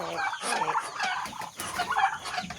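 Poultry calls and clucking from a group of ducks and turkeys fill the short stretch, several birds vocalizing at once at moderate distance with no talking.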